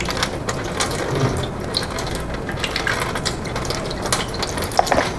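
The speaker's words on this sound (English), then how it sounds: "we're going to run this water down vertically. And you note that when the water hits, the spoon surges toward me." Water from a bottle running vertically onto a spoon, a continuous close splashing trickle with slight irregular spatter, heard alone.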